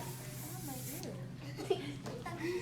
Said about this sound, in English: And then you're gonna spray like you've never sprayed before.